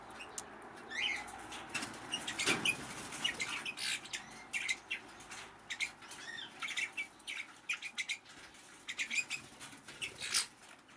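A flock of red-rumped parrots, the Australian grass parrot, with scattered chirps and tweets over repeated wing flaps and rustling, fairly faint and spread across the scene, no voices.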